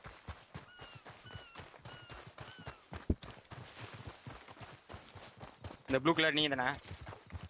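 Horse hooves clip-clopping at a steady trot in the Western video game Red Dead Redemption 2, rhythmic muffled thuds running under casual conversation, with a louder voice toward the end.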